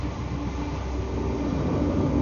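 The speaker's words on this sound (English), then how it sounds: "here comes the 172. It's, it's the West Midlands Railway." Steady rumbling roar of a passing West Midlands Railway Class 172 train, continuous and fairly loud throughout.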